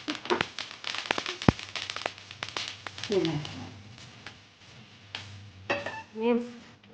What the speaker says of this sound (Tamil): கருக விடக்கூடாது பட படண்டு இப்படி உடைக்க பாருங்கள் வெடிக்கிட்டு பாருங்க